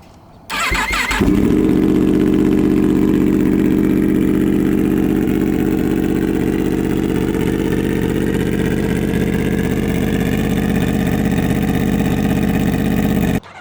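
A 2025 Yamaha R1 with an aftermarket exhaust and ECU flash cranks, fires up loudly and settles into a steady, throaty idle up close, with no talk.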